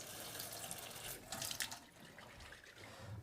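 Water runs from a tap into a glass jar to rinse Protein Powerhouse sprouts, a steady close splashing hiss lasting a few seconds that shifts slightly as the jar moves, with no voices.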